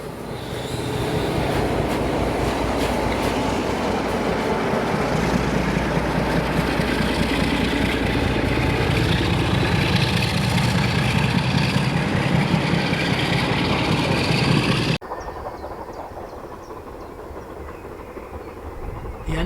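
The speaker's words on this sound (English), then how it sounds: "devastating sound of a 3-cylinder engine marks the arrival of Braunton on an English Riviera Express" The 3-cylinder steam locomotive Braunton arrives hauling an English Riviera Express special, a loud, close, continuous roar with rolling rail clatter that drops abruptly to a quieter rumble near the end.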